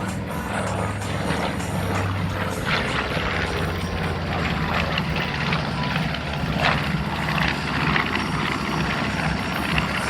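The B-25 bomber Panchito, a twin-engine propeller warbird, drones past at an Orlando air show, a steady rumbling engine roar at moderate distance over faint crowd noise.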